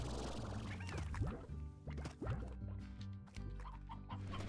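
Hens cluck repeatedly in the video game Slime Rancher, a busy run of close game-farm clucks and squawks over a steady layered musical background with no talking.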